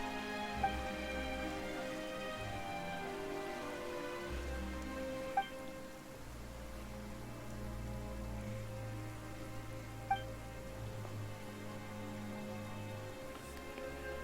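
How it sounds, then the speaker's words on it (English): Steady rain patters down across a Genshin Impact scene in Fontaine, a soft continuous hiss over low game music, with a few faint chime-like plinks. "Why is it raining all of a sudden?"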